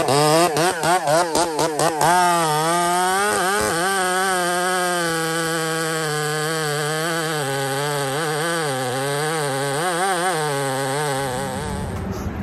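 A two-stroke chainsaw runs steadily at high revs near the microphone, its whining engine tone wavering as the throttle shifts, then cuts off near the end.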